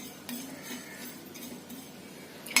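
Ajwain and cumin seeds roasting dry in a pan over low heat, stirred with a spoon that scrapes and taps faintly against the metal, ending in a sharper clink.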